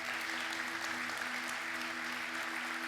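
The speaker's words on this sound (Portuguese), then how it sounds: "Você pode dar uma salva de palmas para o Senhor?" A church congregation claps together during a service, steady and continuous applause with a faint droning tone underneath.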